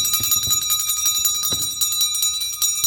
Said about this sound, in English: They know that's the dinner bell and it's time to eat.